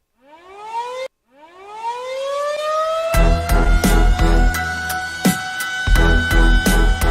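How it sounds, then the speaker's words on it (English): An air raid siren winds up twice in rising wails, then holds a loud sustained tone as heavy rhythmic music thumps in underneath, opening a high school football show segment. "Pickle, hit the air raid siren."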